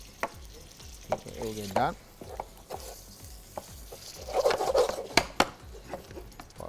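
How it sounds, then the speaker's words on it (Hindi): Minced meat being fried with garlic and ginger in a pan: rhythmic knocks and scrapes of a spoon over a low sizzle, with brief speech partway through and a louder burst of frying toward the end. "इसको अच्छी तरह से आप गार्लिक और जिंजर के साथ कीमे को भूनेंगे"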